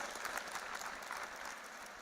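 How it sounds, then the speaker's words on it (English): Audience applause for a speaker at a media and communication school conference, a steady dense wash of many hands clapping indoors, moderately loud and continuous throughout with no talk over it. "A round of applause once again for Priyankar Upadhyay, sir."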